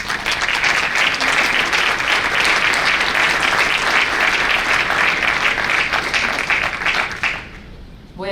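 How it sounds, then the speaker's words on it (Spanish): Loud, dense audience applause at a women's gathering in Catamarca, a full room clapping steadily and close for about seven seconds before it drops away suddenly near the end. "Un aplauso para las compañeras."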